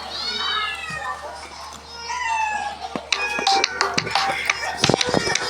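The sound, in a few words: cat meowing from a played Cat AI video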